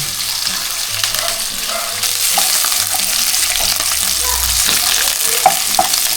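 Chicken skin frying in hot oil gives a steady, close, dense sizzle with scattered pops and a stirring clatter, and no one speaks over it.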